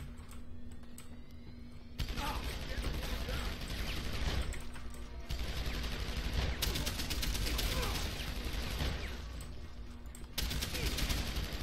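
Gunfire and blasts from a firefight in Deus Ex: Human Revolution, a dense burst of shooting and explosive crashes that carries on for most of the stretch, loud and close and without letup.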